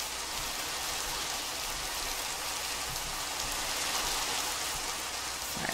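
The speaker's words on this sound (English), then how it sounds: "It's raining like crazy." Heavy rain falling in a Pixelmon Minecraft game world, a dense, steady hiss of downpour that is constant and loud for the whole stretch, with no voices.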